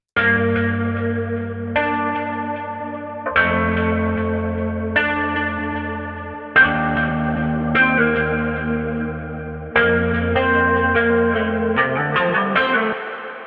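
Sustained music chords ring out with a spacious reverb tail using 13 ms pre-delay, low and high cuts, each new chord blooming and lingering over the last, bell-like and washed in echo.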